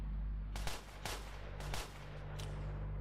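Distant gunshots ring out at a rally: four or five sharp, irregular cracks against a low background hum, with no one speaking over them.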